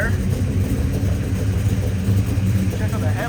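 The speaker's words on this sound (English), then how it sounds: "You hear this truck is loud, but not too loud, but enough to get attention." A 1964 Chevrolet C10 custom pickup with a GM 502 crate V8 idles with a steady, deep low rumble, fairly loud and close, with light uneven pulsing throughout.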